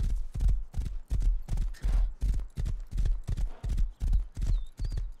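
Horse hooves clip-clopping in a steady, evenly spaced rhythm in the video game Rust, about a dozen crisp, close hoof strikes with a brief whinny near the middle.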